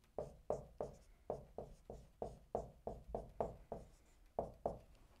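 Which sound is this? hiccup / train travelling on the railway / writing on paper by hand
writing on paper by hand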